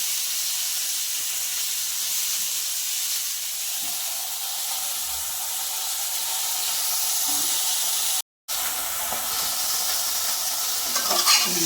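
Fish wrapped in banana leaf fries on low heat in a covered pan, giving a loud, continuous close sizzle with a broad steamy hiss, broken once by a momentary drop.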